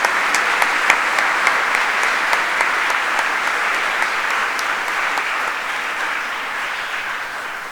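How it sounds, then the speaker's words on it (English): A school investiture ceremony audience claps in a big, sustained round of applause, dense and even, with sharp individual claps standing out before it slowly tapers. "I would request you to join hands for a big round of applause for our"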